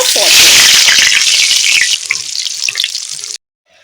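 Pointed gourd (potol) slices frying in a pan make a loud, bubbly sizzle with light scraping and clinks, fading somewhat before cutting off abruptly near the end.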